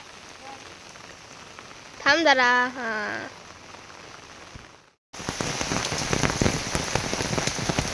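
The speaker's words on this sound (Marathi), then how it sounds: "पाऊस पडतोय आता चांगलाच" Heavy rain pours down during monsoon rice transplanting in the Konkan. A short exchange of voices comes first, then a hard, dense drumming of rain on surfaces starts abruptly and continues loudly to the end.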